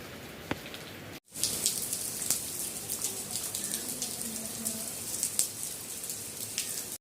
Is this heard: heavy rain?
yes